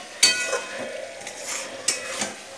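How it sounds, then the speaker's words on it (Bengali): Fried chicken stirred into spice masala in a pan for chicken kosha, with a spoon scraping and clanking against the metal in several sharp knocks over a soft, close sizzle. "আস্তে আস্তে আমি মাংসটা কষাতে থাকি ভালো করে"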